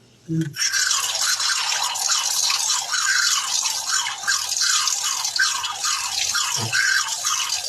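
Water splashing and dripping as a face is wetted at a sink during a skincare routine, a close, continuous patter of splashes and drips with brief thumps at the start and near the end.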